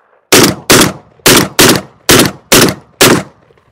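A Beretta 1301 Mod 2 semi-automatic shotgun fires seven loud, sharp blasts in quick succession at an outdoor test, each boom trailing a short echo.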